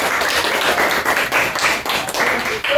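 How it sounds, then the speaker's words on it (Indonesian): A classroom of students clapping hands together, a dense, steady patter of many overlapping claps filling the whole moment at fairly close range, with no talking over it. "Ya, tepuk tangan."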